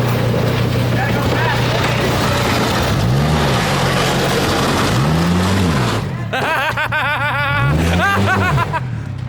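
A Volvo caster car, a cut-in-half Volvo build, drives fast near a dock, its engine revving in repeated rising and falling sweeps, loud and close, with voices chattering in the background.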